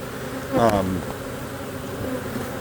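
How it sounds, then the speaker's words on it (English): Angry honeybees buzzing around a recently opened hive, a close steady insect drone with one bee swooping loudly past near the microphone. "Boy, these bees are angry."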